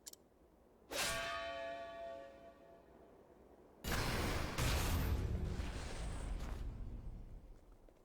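A bell clangs in the Octopath Traveler 2 video game: one loud metallic strike rings out and decays, then a second heavier clang follows with a long reverberant, rumbling tail.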